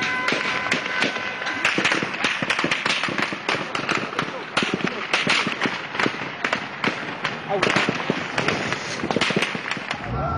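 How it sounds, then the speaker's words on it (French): An army in Benghazi shooting automatic weapons at rioting protesters, heard as a dense, continuous crackle of sharp reports and pops, loud and unbroken across the whole stretch, with crowd noise mixed in underneath. "L'armée réplique à l'arme automatique."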